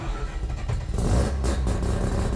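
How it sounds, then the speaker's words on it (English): A car engine fed by a Weber carburettor, in a Mazda FC RX7 or rotary VN Commodore, cranks and then catches, rising into a loud rough revving roar close by, with no speech. "the old Weber technique, 10 pumps of the throttle, first time every time"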